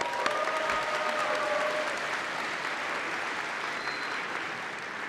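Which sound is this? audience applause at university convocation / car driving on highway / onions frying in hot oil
audience applause at university convocation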